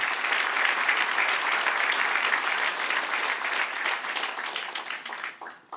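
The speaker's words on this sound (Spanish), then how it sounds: "Denle un aplauso al Señor." A church congregation claps together in steady, sustained applause that fills the room and then thins out and fades near the end.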